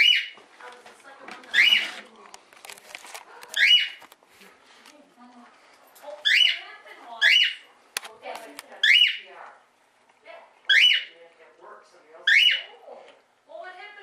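A pet bird gives repeated sharp squawks and whistles in bursts about every second or two, loud and close, while people talk nearby during a toilet replacement at home.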